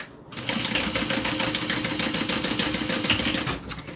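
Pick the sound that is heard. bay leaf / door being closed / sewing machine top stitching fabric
sewing machine top stitching fabric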